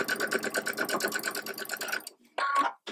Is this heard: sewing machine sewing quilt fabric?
yes